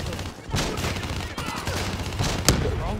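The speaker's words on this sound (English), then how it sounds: "Give me some cover fire." Rapid bursts of gunfire in Call of Duty: Black Ops 3, dense overlapping shots and a sharp loud crack near the end, with game voices mixed underneath.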